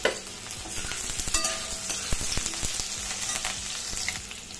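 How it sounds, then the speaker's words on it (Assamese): Jackfruit pieces fry in hot mustard oil in a pan, giving a steady close sizzle broken by scraping stirs and sharp spatters throughout. "কঁঠালখিনি অলপ ভাজি লওঁ"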